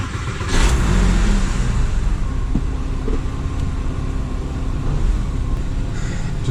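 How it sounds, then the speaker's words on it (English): Porsche 996 engine idling to warm up before an oil change, a loud, steady, even running drone close by with no talk. "I'm going to turn on the engine for a minute"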